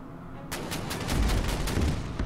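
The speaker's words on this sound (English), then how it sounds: "The Molotov continues to fire down there, that's good" Naval guns of the Molotov firing in the strategy video game Order of Battle at Sevastopol: a rapid series of about ten sharp, loud shots in quick rhythm over deep rumbling booms.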